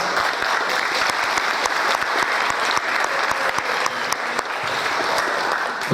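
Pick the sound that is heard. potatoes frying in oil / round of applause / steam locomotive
round of applause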